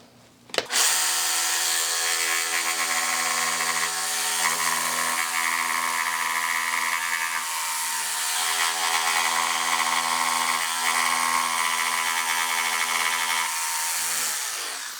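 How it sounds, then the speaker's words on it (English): A jigsaw saws steadily through a board for about fifteen seconds, a continuous close, loud buzzing cut with no pauses and no voices. "Now just cut it out with a jigsaw."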